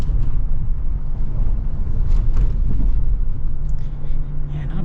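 A 2025 Chevy Tahoe LT Duramax diesel drives over bumps, heard from inside the cabin as steady low road rumble and drone with faint knocks.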